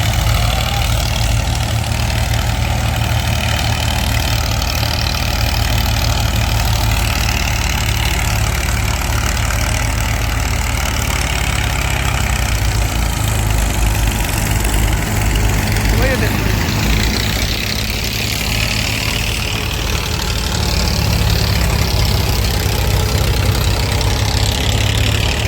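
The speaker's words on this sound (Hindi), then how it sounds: "3 HP कैटेगरी के ट्रैक्टर यहाँ पे खड़े हैं, तीनों पे चला के देखेंगे।" A 35 HP category tractor fitted with a 7-foot Terrasoli rotavator runs steadily nearby, a loud, continuous low diesel drone with a constant throbbing hum, unchanging for the full length.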